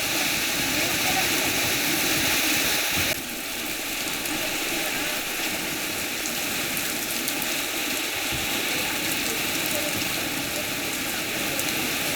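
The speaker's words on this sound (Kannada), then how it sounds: "ಕಾಫಿನಾಡಲ್ಲಿ ಮುಂದುವರಿತಾ ಇದೆ ರಣ ಮಳೆ ಗಾಳಿ ಸಹಿತ ಮಳೆ" Heavy rain with wind pours down in a steady, dense hiss, loud and unbroken, with a brief lower-level dip early on and no voices.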